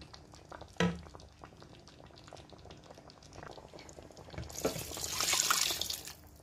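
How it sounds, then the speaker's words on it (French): Water is poured into a pot of simmering okra sauce, a brief splash followed by a rising, hissing rush of liquid and bubbling that swells toward the end, with no voices. "Je vais rajouter un petit peu d'eau quand même parce que c'est un peu trop lourd."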